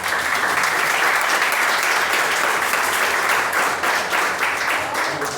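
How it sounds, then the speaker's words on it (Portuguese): A church congregation breaks into applause, many hands clapping loudly and close in a sustained, even wash with a faint rhythmic pulse, no voices standing out. "Eu quero então saudar essas mulheres com uma salva de palmas."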